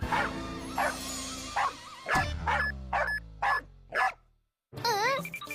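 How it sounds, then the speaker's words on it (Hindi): A dog barks repeatedly from a machine's speaker in a cartoon, short bursts with whining yips between them, sounding electronic and somewhat processed, close up. "इस मशीन में से कुत्ते की आवाज कैसे निकल रही है?"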